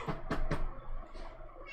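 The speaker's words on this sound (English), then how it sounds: "the cat is begging for food" A cat begging for food meows faintly indoors, two or three short close cries at the start followed by a softer one, with a voice nearby.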